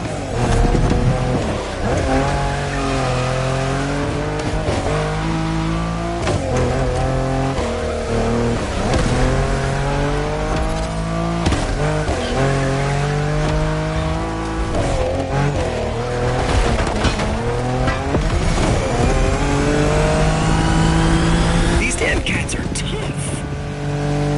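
Car racing in The Crew Motorfest on PS5, with a loud continuous engine whine rising and falling through gear changes and occasional tire squeal, under talking voices.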